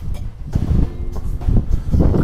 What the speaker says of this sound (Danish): Fuck den vind.